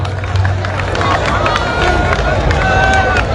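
A large gathered crowd at a religious gathering, a loud continuous roar of shouting and babble from many voices close by, with no single voice standing out.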